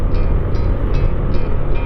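Suzuki Avenis 125 scooter running at top speed, a loud steady engine drone mixed with heavy wind rush, continuous and close, with no one talking.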